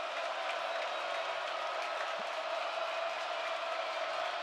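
Steady, dense murmur of a large basketball arena crowd at a college game, Michigan Wolverines at Indiana Hoosiers, holding a continuous roar with no distinct cheers while a free throw is taken.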